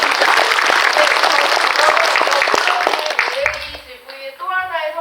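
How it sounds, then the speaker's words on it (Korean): A cinema audience at a Korean film's post-screening talk breaks into sustained, dense applause that tapers off after about three seconds, leaving a voice speaking and faint scattered claps at the close. "우리 박수 한 번만 부탁드릴게요."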